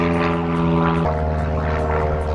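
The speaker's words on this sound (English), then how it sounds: "This is what it's like living near an airport." A propeller airplane flying over near an airport, a loud, steady engine drone with harmonic hum that holds throughout and shifts pitch partway as it passes close overhead.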